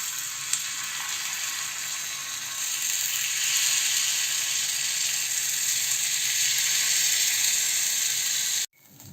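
Kara kuzhi paniyaram batter hits the hot oiled wells of a paniyaram pan, sizzling in a steady, bright hiss that grows slightly louder midway and then cuts off abruptly near the end.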